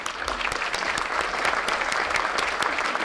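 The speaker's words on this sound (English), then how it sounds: "Please thank them with a rousing round of applause" A conference audience at an agency leaders' symposium applauds steadily for several seconds, dense continuous clapping from many hands at close range.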